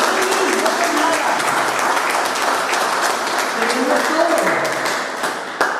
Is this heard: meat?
no